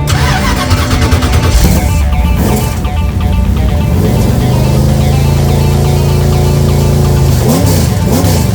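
A loud race car engine cranks and fires up at a raceway, then settles into a rough, throaty idle with occasional revs, close by.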